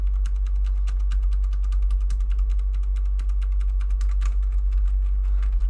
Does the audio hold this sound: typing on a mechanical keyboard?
yes